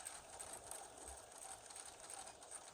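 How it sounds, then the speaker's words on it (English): A sewing machine runs reverse stitches over a strap on a small fabric backpack, a faint, steady rapid mechanical whir with fine rhythmic ticking, continuous and heard alone. "we're going to go reverse stitches a couple over the strap."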